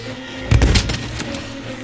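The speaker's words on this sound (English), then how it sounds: "And I'm being chased by an exploding barrel, so that's fun." An exploding barrel blows up in a video game: one sudden booming burst followed by a short crackling tail, then quieter background game sound.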